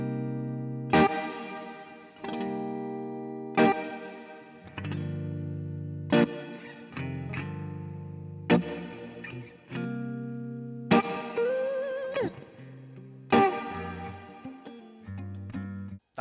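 An electric guitar plays through an amp with shimmer reverb: chords struck roughly every couple of seconds, each ringing out with a sparkly, high, sustained wash.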